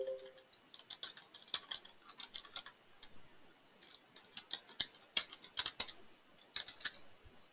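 Fast, irregular clicks of a password being typed on a computer keyboard, close and fairly quiet, with bursts of keystrokes and brief pauses and no speech.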